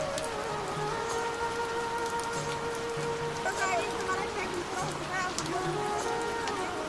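Steady rain patters on the Kartik Swami temple trek in Uttarakhand, an even hiss of drops continuing throughout, with faint voices and small sounds scattered over it.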